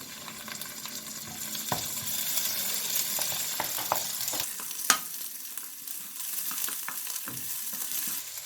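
Garlic and ginger paste frying and sizzling in a pan with already golden onions for a zucchini curry, a steady close hiss broken by occasional stirring clicks and scrapes, with no talking.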